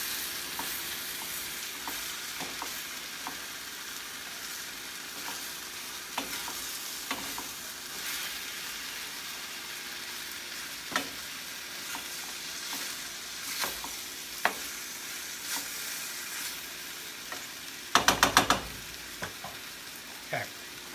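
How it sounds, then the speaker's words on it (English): Seasonings for a spaghetti squash sauce are stirred in a hot pan, a soft steady sizzle with scattered scraping strokes of the utensil and a brief cluster of sharp clatters near the end. "So I'm giving this a quick stir."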